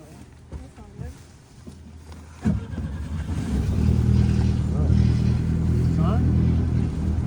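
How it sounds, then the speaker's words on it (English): A sailboat's troubled engine is cranked: after brief talk and a few knocks, the motor catches with a sudden start and settles into a loud, steady running rumble close by, with voices talking over it. "Let's crank the engine."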